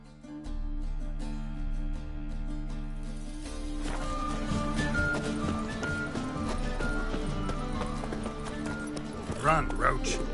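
Horse galloping in The Witcher 3 video game, a steady run of hoofbeats under a sustained musical score, with a short voice line near the end.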